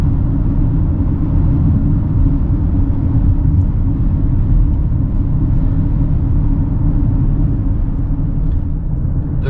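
A car driving along a road to a campsite in British Columbia, heard from inside as a loud, steady low engine and road rumble that never lets up.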